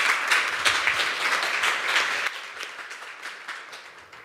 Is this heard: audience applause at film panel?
yes